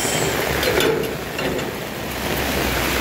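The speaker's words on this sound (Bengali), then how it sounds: "দেখো কি সুন্দর জল পড়ছে দেখো ড্রেনগুলো থেকে।" Heavy rain outdoors with water pouring from street drains, a steady broadband wash of splashing and running water, close and continuous with no talk.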